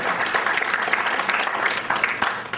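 An audience at a jazz event bursts into loud, close applause, a thick continuous roar of clapping that carries on without a break.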